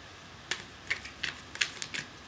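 Tarot cards being shuffled by hand over carpet, a series of crisp, brief riffling snaps at uneven intervals, close and fairly quiet.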